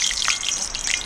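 Water drips and trickles off a board at a wild camp in a Northumberland forest, a few close, bright droplets and splashes in quick succession.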